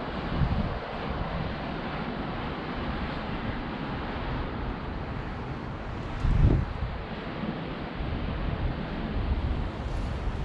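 Steady outdoor wind buffets the microphone as a low, continuous rumble and roar with a stronger gust partway through; no voices are heard.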